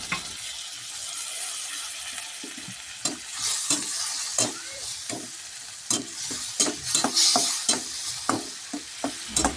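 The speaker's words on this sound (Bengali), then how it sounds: "এবার সব কিছু ভালো করে কষিয়ে নেব।" Snake gourd curry sautéed in a pan, with a spoon scraping and stirring in repeated strokes over a steady close sizzle.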